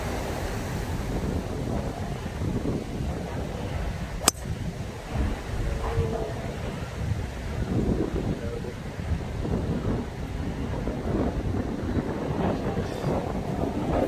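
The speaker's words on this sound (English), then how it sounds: "Wind is just so strong." Strong wind buffets the microphone on a golf course, a continuous rough low rumble with one sharp knock, and a voice speaking beneath the gusts.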